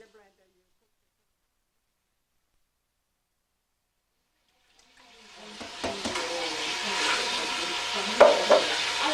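Blender on its stir setting blending canned tomatoes for a homemade sauce, starting after about five seconds of silence and then whirring and churning steadily, fairly close, to the end.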